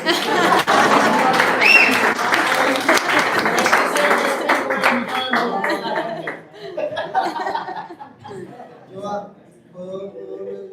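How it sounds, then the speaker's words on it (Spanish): Church audience applauding a pastor's father-in-law, loud clapping mixed with chuckles and laughter that thins out after several seconds into scattered voices and talk. "Se merece un aplauso."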